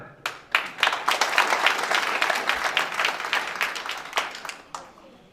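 A seminar audience at a network marketing talk claps in a moderate burst, starting with a few scattered claps, building to steady applause, then thinning out near the end.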